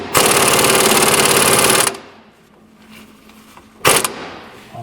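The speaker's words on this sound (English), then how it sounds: "we're going to loosen that with an air-powered impact driver" An air-powered impact driver loosens a 13/16 nut on a pitman or idler arm of a GM truck's steering linkage, with one long, loud rattling burst of hammering followed after a pause by a short second burst.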